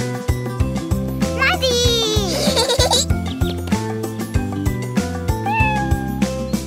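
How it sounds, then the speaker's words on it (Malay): A pampered pet cat meows in a long, wavering cry and again more briefly later, set within a bouncy children's song with young voices singing. "Kucing yang manja, kesayangan saya."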